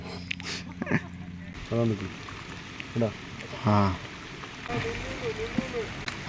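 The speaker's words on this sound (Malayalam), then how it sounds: "മഴയും വന്നുകൊണ്ടിരിക്കുന്നത്" A steady wash of rain noise at a village pond in Palakkad, Kerala, fills the background while people fishing talk intermittently over it.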